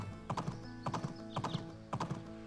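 Horse hooves galloping in the video game Doraemon Story of Seasons: rhythmic clip-clop footfalls in quick groups of beats over soft game background music, clear and close.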